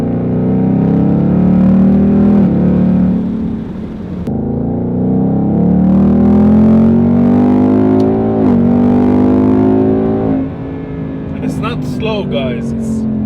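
The 5.0 V8 of a Ford Mustang GT rumbles loudly up close, its exhaust swelling through repeated rising revs with deep harmonic growl, then easing off toward the end.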